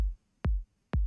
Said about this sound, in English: We have a kick drum here, which I made in kick 2